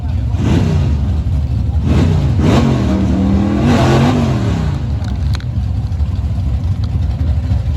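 Chevy Nova drag car revving loudly at a drag strip, engine pitch rising and falling in several surges over a continuous roar, with commentary talk faint beneath.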